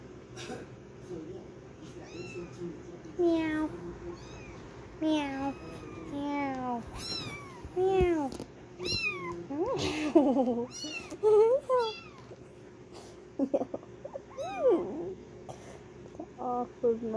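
Several high, thin kitten meows, some drawn out and wavering, come close by in short bursts with quiet pauses, with a little soft talking mixed in.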